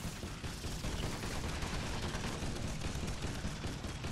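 A turret in Earth Defense Force: Insect Armageddon fires continuously, a steady, rapid stream of gunfire at moderate loudness with no breaks and no speech.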